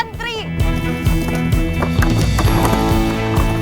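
Swamp buffalo jostle and crowd out of a wooden pen that rocks under their weight, heavy hooves thudding and clattering close by in a busy, continuous scramble, with a voice heard over the commotion.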